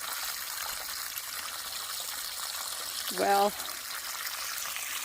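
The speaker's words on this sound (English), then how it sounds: "who doesn't like the sound of running water?" Water from a garden watering system runs in a steady, hissing trickle throughout, with a short spoken word partway through.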